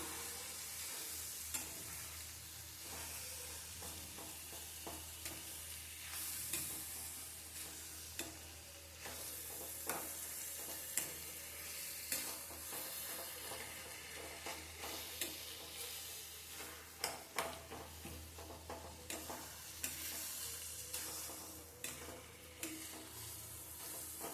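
Tomatoes cooking down in a pan with a steady low sizzle, punctuated throughout by scraping stirs of a spatula, moderately faint and close, with no talking.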